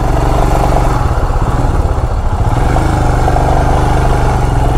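A motorcycle engine hums and revs while riding on a jammed road on a long Bihar to Kolkata trip, a loud, close, steady throbbing drone with slight dips in pitch.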